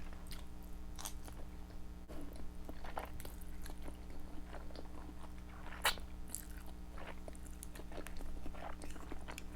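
Close, quiet biting and chewing of shrimp during a spicy noodle meal, with soft crunchy, wet mouth sounds scattered irregularly over a low steady hum.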